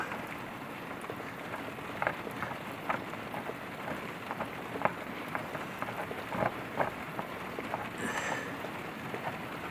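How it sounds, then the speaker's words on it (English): Steady heavy rain pouring down, a dense continuous hiss with scattered louder drops and splashes throughout. "I don't know if you can hear that rain, but she's pouring."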